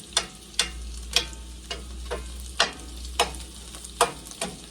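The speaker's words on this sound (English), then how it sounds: "I'm going to cut up my onion. And I'm going to let that be browning." An onion browns in a frying pan, sizzling softly with a low hum, punctuated by periodic sharp clicks of stirring or scraping.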